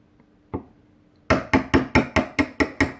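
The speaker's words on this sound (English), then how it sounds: "I'm going to try to chisel it" A chisel being struck to cut down hardened Marine-Tex epoxy on a boat centerboard, a couple of isolated taps followed by eight sharp, evenly spaced knocks, close and crisp.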